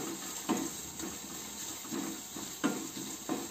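Onions fry on a low flame in a traditional pot for Pahadi-style rajma and are stirred with a wooden ladle. A soft steady sizzle runs throughout, with a light scrape of stirring about every second.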